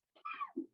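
A single short sneeze, close and fairly loud, a quick burst lasting well under a second with no talk over it.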